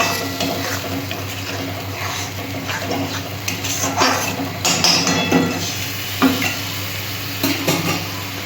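Spice paste is sautéed in a pan over a low sizzle while a spoon stirs and scrapes against the metal. Clinks and taps come at irregular moments, close and clear.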